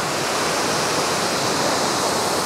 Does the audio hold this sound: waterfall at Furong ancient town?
yes